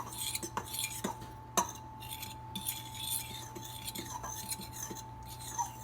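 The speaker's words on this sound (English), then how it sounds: "we're going to mix it up with a fork until all the ingredients are blended well together" A fork mixes dry ingredients and lemon zest in a bowl with a soft, continuous scrape and small irregular clinks, fairly quiet over a steady low hum.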